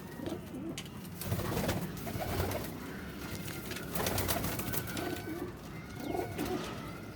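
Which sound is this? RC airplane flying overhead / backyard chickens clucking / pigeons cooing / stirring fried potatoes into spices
pigeons cooing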